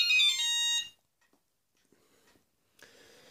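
Siemens C10 mobile phone ringtone ends after under a second of bright electronic beeping, followed by near silence with faint clicks and a short burst of higher hiss or tone near the end.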